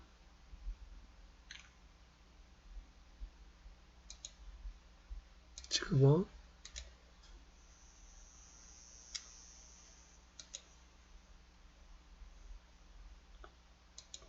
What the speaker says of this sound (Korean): 지금 키보드 마우스를 이용해서 하고 있어요